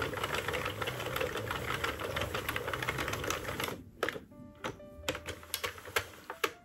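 A Sentro knitting machine is cranked, producing a rapid mechanical clatter of ratcheting clicks that runs continuously, then slows into separate clacks as the handle reverses direction.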